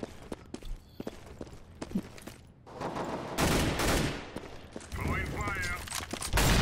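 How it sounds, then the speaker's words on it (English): Scattered sharp pops and clicks give way to dense bursts of rapid gunfire in Counter-Strike: Global Offensive, loud and close, with a brief metallic chatter near the end. "if you heard all those gunshots going off"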